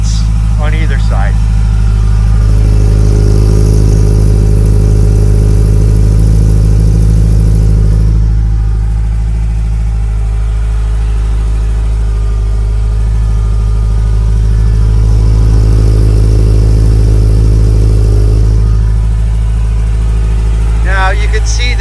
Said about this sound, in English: That's a good listen to the engine, and I'll get up close to the exhaust here.